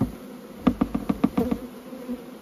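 Honey bees at an apiary being restored with newly bought colonies and packages, a close buzzing that pulses in a quick series of six or so throbbing bursts before easing off, with no talk.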